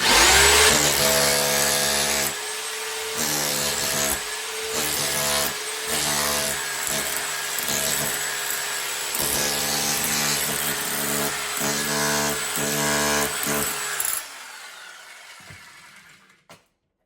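A chipping hammer knocks kitchen tile off a wall in a loud, continuous rattling chatter that holds steady for about fourteen seconds, briefly pauses and shifts, then cuts off abruptly into near silence.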